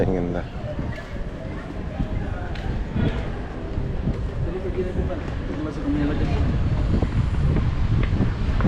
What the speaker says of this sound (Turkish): Evet rüzgar şiddetini arttırmış bulunuyor.